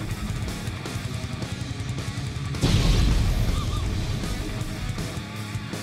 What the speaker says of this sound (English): Giant banana explosion incoming.